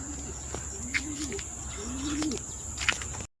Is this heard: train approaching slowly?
no